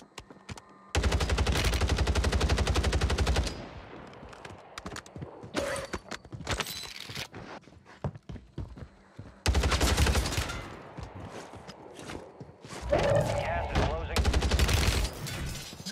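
Rapid bursts of automatic gunfire from a video game, loud and dense, coming in long sustained volleys with choppier single shots and gaps between them, with no talk over the firing.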